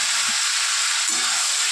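Pointed gourd (parwal) pieces tipped into a hot pan with hiss and sizzle throughout, a steady bright frying noise with faint low clatter near the start and middle.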